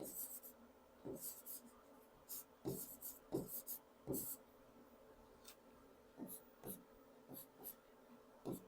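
Pen or chalk strokes from a class writing out notes, coming as short scratchy bursts in an irregular rhythm, fairly faint and close, with soft background hiss and no talk.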